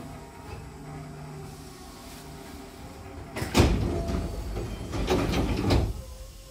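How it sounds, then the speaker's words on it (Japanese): Doors of a Hankyu Imazu Line train closing at Obayashi Station in Japan, heard as a couple of loud rushing slides and thuds over the hum of the platform. "扉が閉まります。ご注意ください。"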